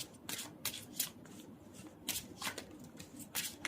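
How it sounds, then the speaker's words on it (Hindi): Tarot cards are shuffled by hand in quick bursts of crisp papery riffles and slaps, close but quiet, with brief pauses between the flurries and no talking. "बहुत सारे कार्ड्स गिर गए, माय गॉड।"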